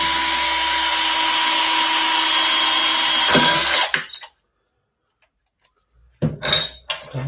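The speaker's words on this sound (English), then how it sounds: "so I'm just drilling those clips out." Power drill boring out aluminum clips during scrap work in a shed: a loud, steady whine for about four seconds that cuts off, a short silence, then a few more rough bursts of drilling close by.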